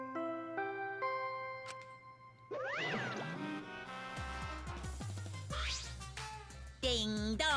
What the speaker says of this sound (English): Ding dong. A body has been discovered.